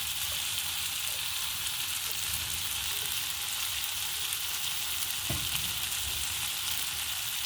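Cooking oil heating in a pot for Kenyan spinach, sizzling and frying in a steady, fairly loud hiss across the whole stretch, with a brief stir or clatter near the end and no talking.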